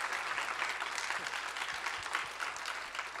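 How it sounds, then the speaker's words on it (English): Audience applause at a closing session of an accessibility symposium, a steady dense wash of clapping filling the whole stretch at moderate volume with no voices on top. "So give him a round of applause."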